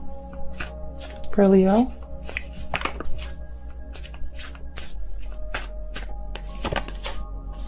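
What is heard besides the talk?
tarot cards being shuffled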